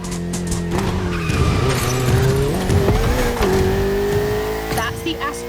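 A Ferrari 488 races in The Crew Motorfest video game, its engine revving up and down loudly while tires squeal and skid across asphalt, with a voice talking over the action.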